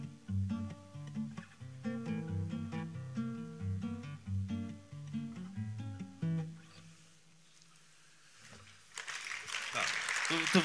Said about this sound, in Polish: Tu wypadałoby oklaski.